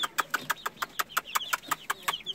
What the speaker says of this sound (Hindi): खूबसूरत चूजे हैं, एक मुर्गी इसमें है